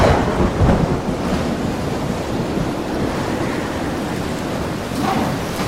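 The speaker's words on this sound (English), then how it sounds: "There's a storm surge." Storm surge at sea during a thunderstorm in the mystery game Miss Clue: Cruise Most Deadly, a loud, steady roar of crashing waves and wind with rumbling thunder swelling through it, and no voices.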